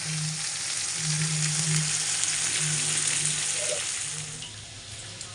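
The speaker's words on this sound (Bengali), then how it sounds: "এখানে আমি বসিয়ে দিয়েছি করলা ভাজা" Bitter gourd slices frying in a pan give a steady, close sizzle and crackle with a faint low hum underneath, continuous for the whole stretch and easing slightly at the end.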